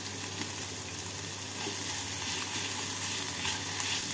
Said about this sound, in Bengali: ভালো করে মিশিয়ে নিয়ে 2 মিনিট মতো ভেজে নেব।